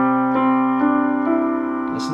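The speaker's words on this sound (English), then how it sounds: "So with the sustained pedal down, it sounds like this." Piano arpeggio in a romantic style, sustain pedal held down so the notes ring together; four soft note onsets spaced about half a second apart blend into a sustained wash, heard alone.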